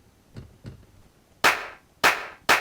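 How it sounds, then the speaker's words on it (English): Clap sample triggered from a pad on an MPC One, heard as three sharp, bright hits in a steady rhythm, each snapping loud and decaying quickly, preceded by two soft low taps. "Now next let's make a riser out of a clap."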